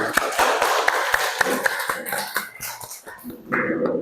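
Students in a classroom clap briefly for group 3 as the group sits down, a scattered, uneven patter of hands mixed with murmuring voices and a cough, which thins out and turns to chatter.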